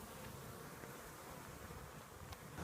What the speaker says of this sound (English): Now we're watching the bees come home from collecting both nectar and pollen.